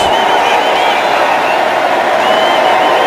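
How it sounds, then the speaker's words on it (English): A stadium crowd at a preseason NFL game, Titans at Falcons, roars steadily in approval of the Falcons defense, a dense, even wash of cheering noise that holds without a break. "The crowd appreciating the Falcons defense"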